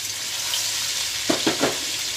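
Garlic and ginger frying in hot oil over a medium flame as the start of a curry paste: a steady bright sizzle throughout, with a few brief stirring scrapes near the end and no talk.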